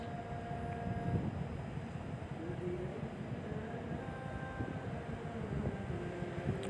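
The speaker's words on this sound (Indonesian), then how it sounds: "pelan-pelan lokomotif menerjang rumput-rumput dan tanah yang menutupi rel." Locomotive creeping slowly along a sugar mill railway line buried under grass and soil, a loud, steady rumble and grinding with faint squeals throughout.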